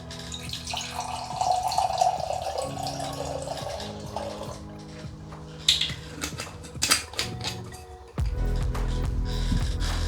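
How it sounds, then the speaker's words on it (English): Homemade grape wine poured from a bottle into a glass, a rising liquid gurgle and trickle over several seconds, close and fairly loud, followed by a clunk and fuller splashing near the end. "let's pour out a glass of this and get it tasted"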